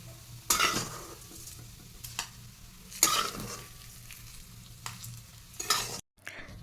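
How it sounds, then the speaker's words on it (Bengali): Gobindobhog rice grains frying in a little oil, stirred in several distinct bursts of scraping and sizzling, close and moderately loud, with quieter sizzle between the stirs. "এবার অল্প একটু তেলের মধ্যে দিয়েছি এক মুঠের মতো গোবিন্দভোগ চাল"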